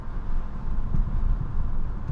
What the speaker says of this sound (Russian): Ну вот мы проезжаем кучу ям.